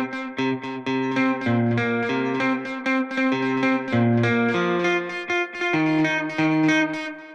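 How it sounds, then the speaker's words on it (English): A synth melody with a plate-type reverb effect on a beat, sustained bright tones in a stepping pattern with smooth tails filling the gaps between notes, loud and alone without talk. "Now you hear the reverb."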